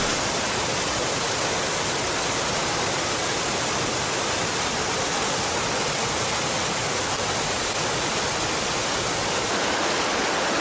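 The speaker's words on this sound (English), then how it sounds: "A lot of water going over the falls." Travers Falls in Nelson Lakes National Park with a heavy flow of water going over, a loud, unbroken roar of rushing water, close and steady throughout.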